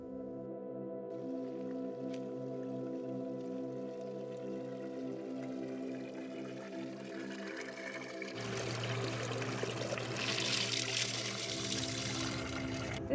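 Water pours from a drinking water source at a dispersed campsite near Glacier National Park, a faint hum first, then a louder splashing gush taking over in the second half.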